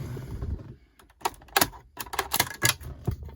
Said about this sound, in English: now I'm going to use the trim tool for taking these covers.